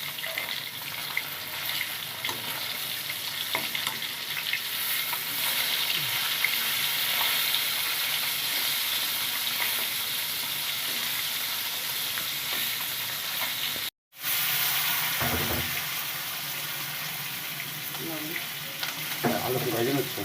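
Potatoes fry in hot oil in a home kitchen, a continuous loud sizzling hiss that runs steadily throughout, broken once by a brief moment of silence before the crackle resumes.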